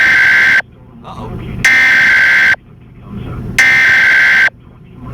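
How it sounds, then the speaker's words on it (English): A weather app sounding a severe thunderstorm warning during a Kansas storm: three loud, shrill electronic beeps, each about a second long, separated by short pauses, with someone speaking in between. "If you heard the 3 beeps just now, that was my weather app going off"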